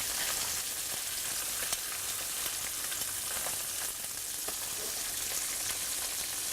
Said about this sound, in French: On cuit environ 1 à 2 minutes, un grand maximum de chaque côté